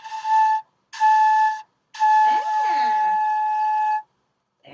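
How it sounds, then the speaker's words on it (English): Flute head joint played with too much air, producing a series of steady whistling tones with shrill overblown extra whistles. Three separate notes, the last held longest and wavering, all clear and close. "let's try and blow a little less because you're kind of getting some extra whistles coming out"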